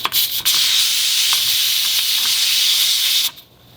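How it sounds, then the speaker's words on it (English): Steam hisses out of a pressure cooker cooking a pot roast: a loud, steady, broadband rush after a couple of short bursts, holding for about three seconds before cutting off abruptly. "you can hear and see that thing going crazy. That's the steam coming out."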